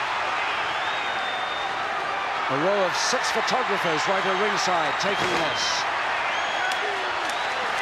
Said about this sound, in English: the crowd's standing up and going mad, this packed Wembley Arena